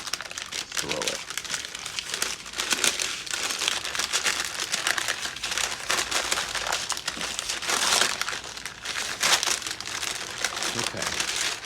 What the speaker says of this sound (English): So I'm gonna use my paper to sort of help roll the dough up